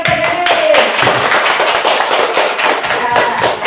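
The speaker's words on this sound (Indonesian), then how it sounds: "beri tepuk tangan untuk Hairil" A classroom full of students clapping for a classmate, dense steady applause of many hands throughout, close and fairly loud.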